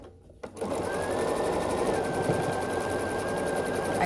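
A sewing machine runs steadily and close by, stitching a quilt block seam for a scrappy sampler. It starts after a brief quiet moment and keeps a continuous whirring hum to the end.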